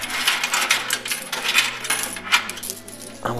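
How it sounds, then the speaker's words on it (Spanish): A stream of coins clatters out of a money machine, with bright metallic jingles tumbling in quick bursts for a few seconds before a final clink. "Vamos a acomodarnos las monedas y aquí están, escuchen."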